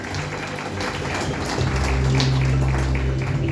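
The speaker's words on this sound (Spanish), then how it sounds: "el pueblo reciba con fuertes lluvias de aplausos" A church congregation applauds as a pastor enters at an evangelical Quichua church anniversary celebration in Quito. The sustained, dense clapping is steady and fills the space, with a low hum underneath.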